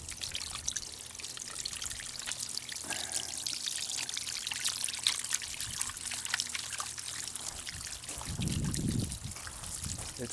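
Water trickling and splashing steadily from the spout of a bird bath converted into a water feature outdoors, a continuous soft dribbling wash with a slightly fuller gush toward the end.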